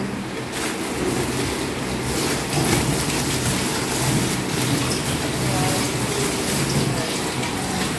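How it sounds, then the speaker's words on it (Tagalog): Steady rain pours down at an outdoor public market, a dense, even hiss that holds for the whole stretch with faint voices murmuring underneath. "Ulan."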